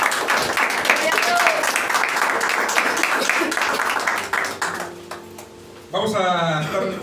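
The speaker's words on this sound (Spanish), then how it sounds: "Qué fuertes aplausos." A church congregation applauds loudly, dense clapping that fades out partway through, then a voice is heard speaking near the end.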